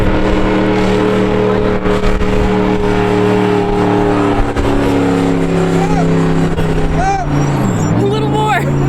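Trophy truck engine roaring loud and close as it pulls a stuck vehicle from a sand dune, holding a steady heavy drone and then swelling in pitch toward the end, with people talking over it.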